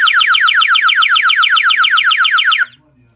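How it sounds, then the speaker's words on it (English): A loud electronic security alarm warbles in rapid repeating sweeps after a sensor tamper breaks the loop, then cuts off abruptly, leaving near silence. "and if the loop gets broken, the alarm goes off"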